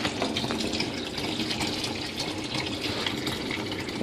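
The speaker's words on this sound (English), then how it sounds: "So now we're pouring water in just to test." Water pours through a hose into aquaponics tanks, a steady close splashing gush of filling liquid that runs evenly for several seconds at moderate volume.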